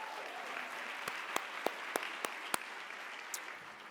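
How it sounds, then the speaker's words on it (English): Audience applause for Ms. Vanzant at a morning summit gathering, a steady wash of clapping with a few sharper individual claps standing out, moderately distant and even throughout. "let's give Ms. Vanzant another round of applause."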